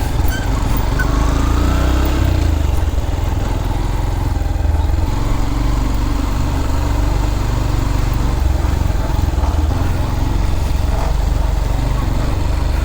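A motorcycle rides steadily through a village road near Pen, its engine droning loud and continuous with heavy wind rumble throughout and no pauses.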